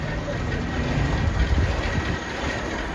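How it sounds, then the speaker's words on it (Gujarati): A train rolls past nearby with a loud, steady rumble and rattling wagons that swell in the middle and then ease slightly. "અંદર તો અહીંથી ટ્રેન નીકળી ગયા."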